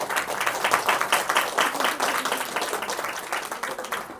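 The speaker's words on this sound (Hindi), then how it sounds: "नहीं ताली बजानी तो एक साथ सारे बजाए।" An audience at a spiritual talk on devotion claps together in unison, a quick, steady run of crisp claps that holds a fairly even rhythm throughout.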